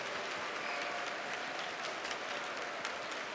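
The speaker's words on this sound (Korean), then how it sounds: "本当に皆さんに自分のためにもお互いのためにも拍手をしたいと思います" Sustained, dense clapping from a large crowd at a Christian evangelistic gathering in Hyogo, steady and full without breaks, voices absent.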